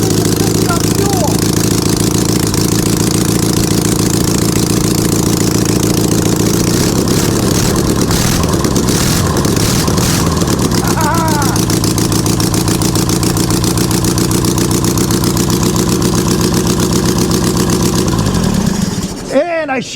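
A home-built dune buggy engine running with no exhaust fitted, loud and rough with a steady uneven chug that holds for most of the time before shutting off in the final second.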